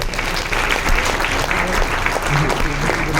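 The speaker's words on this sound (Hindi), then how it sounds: "भाई इसमें तो जोरदार ताली बनता है" Applause from an audience at a business seminar, steady and fairly loud, with dense overlapping claps throughout and a faint voice underneath.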